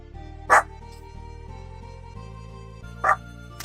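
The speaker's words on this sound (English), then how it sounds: "Sorry, my dog is barking." A stressed dog gives two sharp, separate barks a few seconds apart, loud and close, over a steady musical background.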